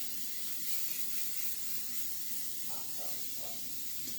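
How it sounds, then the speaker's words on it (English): Cooking spray hissing out of a can onto a pan, a steady close aerosol spray running the whole time with no voices. "I am going to spray my pan just so it doesn't stick."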